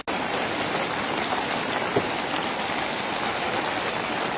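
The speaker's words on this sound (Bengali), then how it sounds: "প্রচণ্ড বৃষ্টি হচ্ছে আর এখন যাওয়ার পথে চিকেন নিয়ে নিচ্ছি তো বৃষ্টিটা একবার দেখুন প্রচণ্ড বৃষ্টি হচ্ছে" Heavy rain pours down steadily on a monsoon day in the hills near Sittong, a dense, even hiss of falling water with no pauses, moderately loud and close throughout.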